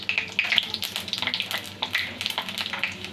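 Dry red chillies and five-spice seeds hitting hot oil in a pan, crackling in a continuous close sizzle full of small rapid pops.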